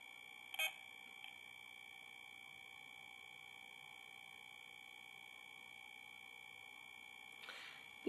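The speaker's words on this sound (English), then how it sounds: "as the mobile phone turning on, part by part, the device will make the noise" A homemade RF detector reacts as a mobile phone boots up, giving a steady electronic tone with brief crackling bursts near the start and again toward the end, with no voices.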